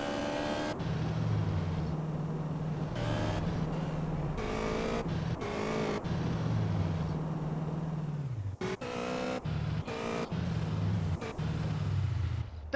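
A car drives in GTA San Andreas Remastered, its engine a close, continuous drone that climbs in pitch, shifts, and occasionally drops away and returns.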